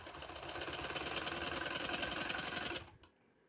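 A sewing machine stitches pintucks on a trouser in a fast, steady, close mechanical whir that runs nearly three seconds, then stops abruptly with a small click before quiet.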